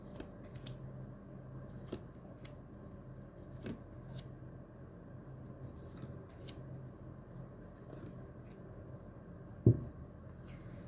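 Tarot cards are shuffled by hand for a reading, soft repeated riffling and flicking taps at a quiet, close level, ending in one sharper knock of the deck.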